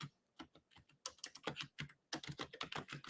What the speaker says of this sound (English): I hope that's typing, because this computer is so janky